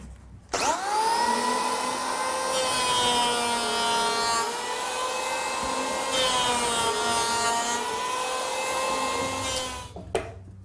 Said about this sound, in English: When using an electric planer, it's easier to set the blade nice and low and make 2 or 3 passes